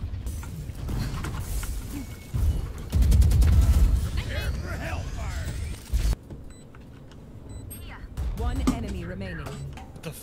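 Video game shooter gunfire on the new Breeze map, with bursts of shots and booms spread through the scene, loud at times, under a player's talk and other game sounds.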